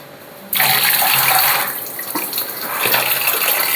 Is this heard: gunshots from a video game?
no